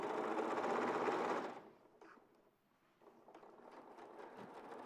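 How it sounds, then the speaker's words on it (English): Sewing machine stitching a garment seam beside the stay stitching. A steady, moderately quiet stitching hum stops partway through, and a softer, lower-level run of machine noise follows. "I'm stitching just to the left of that stay stitching."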